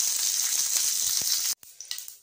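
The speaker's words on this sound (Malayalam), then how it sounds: "കടുക് പൊട്ടി കഴിയുമ്പോഴത്തേക്ക് അതിലേക്ക് കറിവേപ്പില ഇട്ട് കൊടുക്കാം." Mustard seeds and curry leaves crackle and sizzle loudly in hot oil for a kerala-style chickpea curry, then the frying drops abruptly to a quieter spatter.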